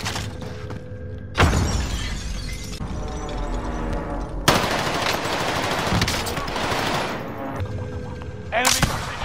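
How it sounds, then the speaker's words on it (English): Frag grenade blast and sustained gunfire in Call of Duty Warzone, with loud crackling bursts of automatic weapons and sharp explosive hits repeating across the stretch, dense and close, with faint voice chatter beneath. "Throwing frag."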